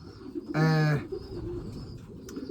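A single short, deep coo comes from a racing pigeon close by, standing out over quiet background noise.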